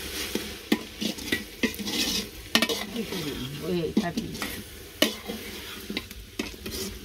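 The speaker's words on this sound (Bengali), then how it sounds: "হলুদ মরিচ দিছ অনেক নাড়াচাড়া দিয়ে দেও" A spoon stirs turmeric and chili in a sizzling cooking pan, with repeated scraping and clacking strokes against the metal over steady frying, close and fairly loud, while a voice speaks faintly in the background.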